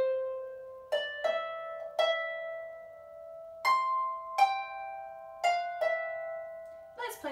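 A phrase of the tune Rory Dall's Port, starting from C, rings out as clear plucked notes, each attack followed by a long decaying sustain, played alone at a slow, unhurried pace with about a dozen notes.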